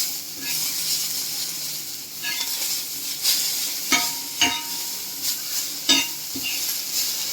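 Chili thecha stirred in a pan over the gas flame, a steady sizzling hiss with repeated scraping knocks of the spatula, several louder strokes in the second half, close up.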